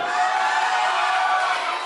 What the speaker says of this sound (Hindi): थोड़ी और जोर से बजा दीजिए तालियां।